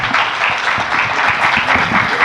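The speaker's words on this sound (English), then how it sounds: "please give this panel a round of very warm applause" Applause rings out for a panel at an automotive forum, a brief burst of loud, close, dense clapping that stays even throughout.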